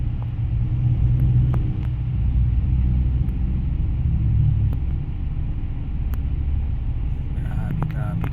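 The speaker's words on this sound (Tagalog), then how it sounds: "Grabe traffic na yan." Traffic jam in Novaliches: a steady low rumble of idling car engines close by, continuous for the whole stretch with faint occasional clicks, no talking over it.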